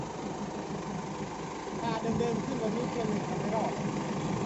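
A four-cylinder common-rail diesel engine runs with a steady low rumble close by while people talk over it.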